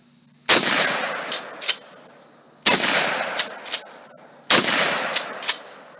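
Three loud, sharp shotgun blasts spaced a couple of seconds apart, each followed by a rolling echo, heard outdoors without talk.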